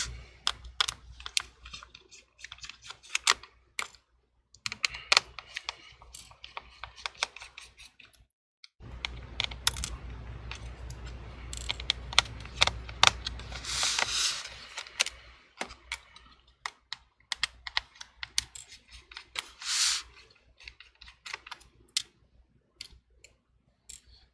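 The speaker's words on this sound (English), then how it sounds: "I'll be using a T5 screwdriver, removing 1, 2, 3, and 4 screws" A T5 screwdriver loosens tiny screws on a MacBook Pro, producing close, sparse clicks and ticks with short pauses, a denser patch of scraping and handling in the middle.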